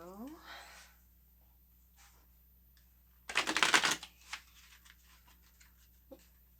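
Tarot cards being shuffled by hand give a short burst of crisp riffling and flapping, preceded and followed by quiet speech and a few soft card taps.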